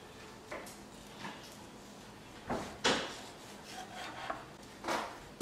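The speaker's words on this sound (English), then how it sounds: "when you're cutting sushi, you want to run your knife underwater and get it wet where it's going to stick to the rice" A wet knife slicing through a sushi roll in a kitchen, making a string of soft, close scraping cuts and faint thumps at irregular intervals, quiet and with no talk.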